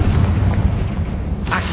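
A Confringo fire spell in a Harry Potter wizard video game bursts as a loud, sustained low explosive boom, with a brief brighter crackle near the end.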